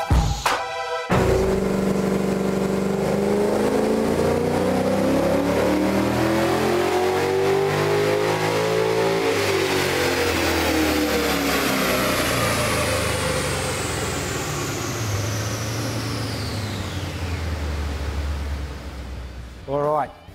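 A tuned performance car on a dyno, running 98-octane fuel, revs hard through a long sustained pull with rising, harmonic-rich engine tone, then winds down; loud and close, ending with a brief drop near the end.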